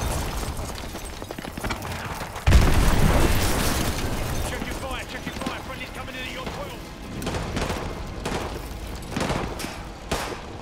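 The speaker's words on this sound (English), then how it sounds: "Explosions are going to attract a lot of attention." In Call of Duty: Modern Warfare 2 Remastered, a heavy blast booms out, followed by scattered explosions and bursts of gunfire amid shouted voices in a chaotic firefight.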